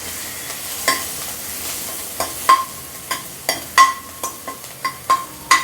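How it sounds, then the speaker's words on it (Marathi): Green chili, garlic and a pinch of asafoetida dropped into hot oil, giving a steady low sizzle broken by a series of sharp spatters and stirring clicks at irregular intervals, close and fairly quiet, with no talking. "तेल छान तापलं आहे, आता ह्यामध्ये जाईल मिरची, हे बघा, नंतर जाईल लसूण, नंतर थोडासा हिंग,"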